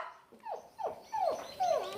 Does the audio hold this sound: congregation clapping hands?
no